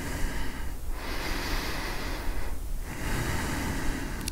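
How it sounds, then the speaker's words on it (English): Slow, deep breaths during an intermediate yoga session in sphinx pose, a long steady airy breath filling the clip with two short pauses between, close and fairly loud. "Let's take two last deep breaths."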